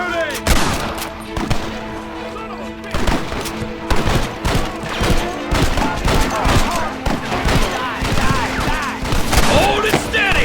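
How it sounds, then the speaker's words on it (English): Gunfire in the Red Dead Redemption video game: rapid, dense volleys of shots crackling near and far in an ongoing firefight, loud and continuous, with occasional shouted voices over the shooting. "Keep shooting!"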